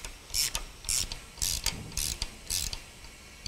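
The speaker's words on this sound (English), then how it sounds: "Reverse the ratchet and start compressing the valve spring." A ratchet on a BMW N63 valve seal tool clicks through five loud, evenly spaced bursts of ratcheting as it compresses a valve spring on a cylinder head, with no talking.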